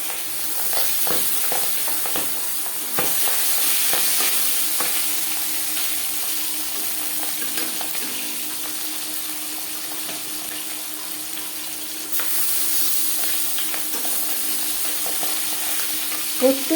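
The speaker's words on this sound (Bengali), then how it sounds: "প্রত্যেক ব্যাচের মাছ একইভাবে ভেজে নেব" Pabda fish frying in hot oil in a home kitchen, a steady close sizzle that runs throughout with occasional stirring clinks and a brief louder burst near the end, no voices.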